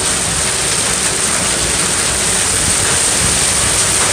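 Heavy hail pounding down outside forms a loud, unbroken roar of dense impacts, like a downpour, filling the whole stretch with no voices heard.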